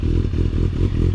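A carbureted 2000 Kawasaki ZX6R sport bike idles close by with a loud, lumpy, uneven burble and a choppy, pulsing exhaust rhythm.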